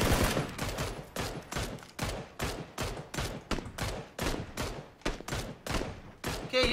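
Automatic gunfire in the shooter game Battlegrounds fires in rapid, sharp bursts, about a dozen loud clusters of shots separated by brief gaps, close and punchy with no talking over them.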